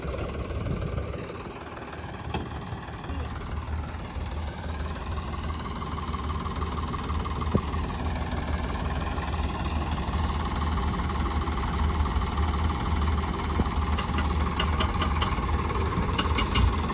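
A tractor's diesel engine drones steadily with a low, knocking rumble during wheat sowing, rising slightly in pitch and level as it keeps running.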